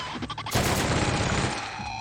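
A burst of rapid gunfire from a video game, shooting robots in The Outer Worlds: a sharp, loud volley that starts suddenly and holds for about a second and a half before giving way to quieter game ambience.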